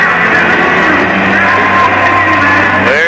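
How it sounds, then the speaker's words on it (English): A loud, sustained roar of an arena crowd cheering and yelling at an International Hockey League playoff game, Turner Cup Finals game six between Fort Wayne Komets and Atlanta Knights, steady and dense throughout with no clear talk. "I think they're all cheering right now because we can't hear anything"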